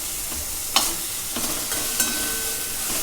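Onion frying in a pan for a village-style chicken masala gravy, a steady close sizzle broken by a few brief scrapes as the spoon stirs.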